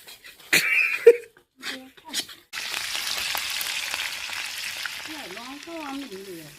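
Eggs frying in a pan give off a steady, close sizzle that starts partway through, with voices talking over it before and during the frying.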